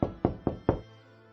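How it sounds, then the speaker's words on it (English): Four firm, evenly spaced knocks on a door, close and clear with short decays and no talking. "he knocked on the door"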